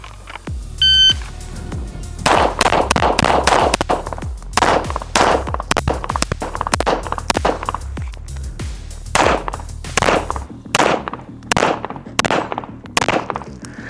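Shots from a ported TTI Combat Master pistol crack at a shooting range in a fast, loud string of about two dozen sharp reports, with short pauses between groups.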